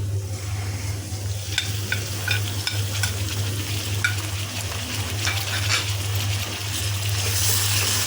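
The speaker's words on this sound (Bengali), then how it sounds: "পেঁয়াজটা একটু লাল করে ভেজে নিই এখন দিয়ে দিচ্ছি বিসমিল্লা বাটা মশলাগুলি" Onion and ground spice paste fry in a pan with a steady close sizzle, broken by scattered clicks and scrapes of stirring.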